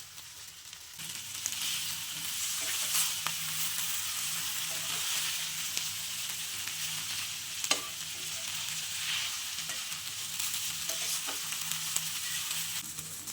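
Street-style chow mein noodles with egg fry in a hot pan, a steady crackling sizzle with occasional scraping stir strokes and sharp ticks, close and continuous with no speech.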